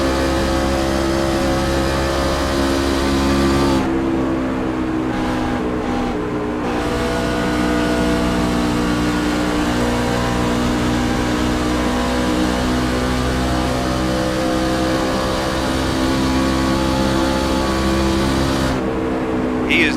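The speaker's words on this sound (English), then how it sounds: "Listen to that throttle, ladies and gentlemen." A race truck engine in a sim racing game roars at full throttle, a loud continuous droning whine with steady harmonics and brief dips, under an energetic commentator's voice.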